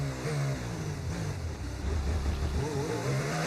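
Car engine revving and accelerating in a mobile racing video game, a buzzy synthetic engine tone that climbs and shifts pitch over a low droning background, moderately loud throughout.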